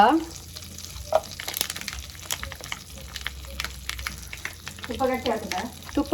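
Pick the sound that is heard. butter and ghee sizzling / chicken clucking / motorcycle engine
butter and ghee sizzling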